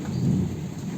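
Heavy rain falls in a steady roar over a home in Sripur while low thunder rumbles through it, with no voices heard.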